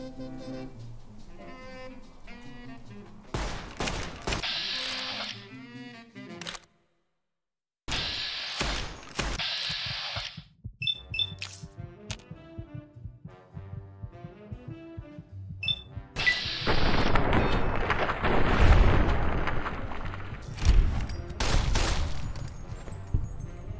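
Rapid gunfire in the video game Fallout: New Vegas crackles in dense bursts and sustained volleys, with short pauses between exchanges and a heavy, loud barrage toward the end.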